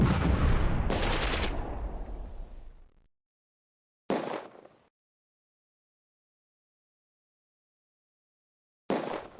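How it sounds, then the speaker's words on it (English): A 6-pounder anti-tank gun in the Close Combat video game fires at a Jagdpanther: one loud, sharp blast with a long rumbling tail, then two shorter, fainter bursts after silent gaps. "a flanking shot on the Jagdpanther from the 6-pounder"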